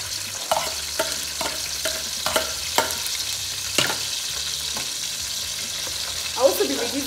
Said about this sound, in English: I'll leave it to fry. I really don't like my oil to be very hot because my onions will burn.